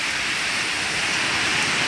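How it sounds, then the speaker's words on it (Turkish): Heavy rain pouring down outdoors during a flood, a dense, steady hiss of water falling on surfaces, loud and unbroken with no voices. "Hala da yağıyor yağmur."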